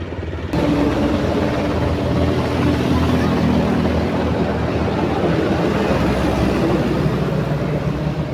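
Steady loud rotor and engine roar of a helicopter circling over storm-damaged Bicol after a typhoon, constant throughout with no breaks.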